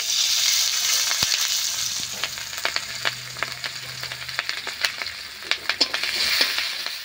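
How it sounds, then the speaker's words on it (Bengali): Chopped onion and green chillies sizzle in hot oil in a pan with a bay leaf and five-spice tempering, a steady frying hiss punctuated by sharp clicks of stirring, close and moderately loud with no talk. "পেঁয়াজ আর কাঁচা লঙ্কা একটু ভাজা ভাজা হয়ে গেছে"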